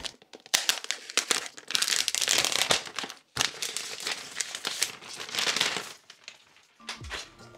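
Packaging from a new M1 Mac Mini crinkles, crackles and tears up close in dense bursts, with a brief pause midway and a soft bump at the end.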